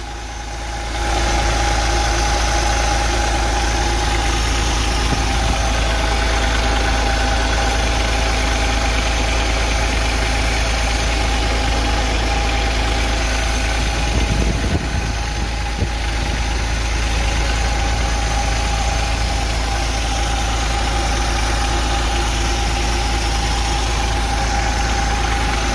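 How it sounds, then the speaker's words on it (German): The six-cylinder diesel engine of a MAN A21 bus idles steadily and loudly for a long stretch, a deep constant rumble with a slight knocking texture and no speech. "So, jetzt haben wir uns den Motor auch angehört"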